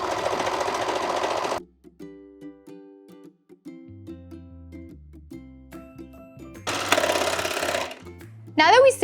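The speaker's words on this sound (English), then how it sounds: "Now we're gonna serge off the other side." A serger sewing machine stitches along the edges of sweater fabric in two loud, busy whirring runs, a long one at the start and a shorter one near the end, with a quieter tonal musical passage between them.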